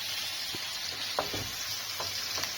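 Zucchini, carrots, capers and olives simmer in a pan with a steady, close sizzle and bubbling hiss, punctuated by a few soft utensil clinks and stirring scrapes.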